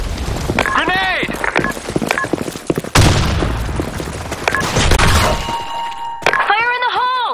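A grenade explosion in a video game, with loud booming blasts and crackling debris mixed among gunfire and shouted voices, voices calling out at the start and end.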